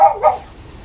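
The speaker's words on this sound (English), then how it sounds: "my dog's barking" A pet dog indoors gives two quick, close barks in fast succession, then falls quiet.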